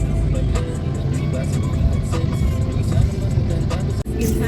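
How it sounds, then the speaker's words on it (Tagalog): City road traffic near Limketkai in Cagayan de Oro, Philippines: a continuous dense rumble of cars, buses and trucks with engines revving and vehicles passing close by. "Grabe yung traffic din dito"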